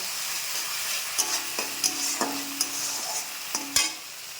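Spiced masala frying in oil in a pan, stirred with a utensil: a steady sizzle runs throughout, broken by a string of sharp scraping clacks of the spoon against the pan, close up with no talking.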